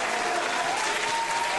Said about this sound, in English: you get the applause